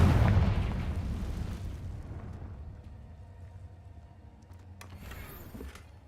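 A Confringo spell explosion in a video game lands as a loud, deep boom at the start. It fades into a long rumbling decay, with faint crackles and scattered impacts trailing off afterward.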